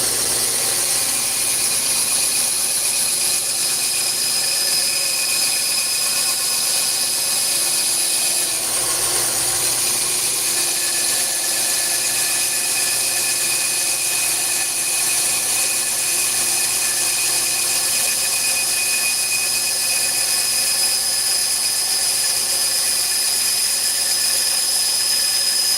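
A power tool grinds steadily through excess material on a knife blade still stuck together, a loud continuous whine with a brief dip midway, no voices.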